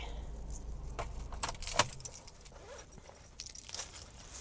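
A bunch of keys jangles and rattles close by as someone gets out of a car, with a few sharper metallic clinks and light handling noise.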